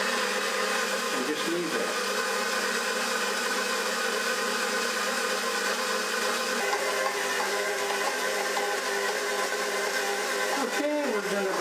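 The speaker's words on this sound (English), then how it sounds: "using the stand mixer just for easiness" A stand mixer at low speed 2 kneads sticky brioche dough, a steady continuous motor whir lasting throughout, with a voice briefly speaking over it.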